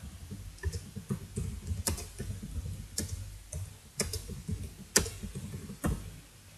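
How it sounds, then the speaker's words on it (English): Typing on a computer keyboard, irregular sharp key clicks and taps spaced out over several seconds, moderately close and fairly quiet with no talking. "I'm going to start typing"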